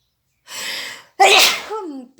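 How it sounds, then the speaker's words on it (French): One loud, close human sneeze with a sharp explosive burst after a short breathy intake, then a brief trailing vocal sound. "Pardon, excusez-moi, j'avais envie d'éternuer."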